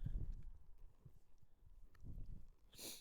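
A mare's hooves clip-clop in a few uneven clusters, dull low thuds close by, with a brighter scrape near the end.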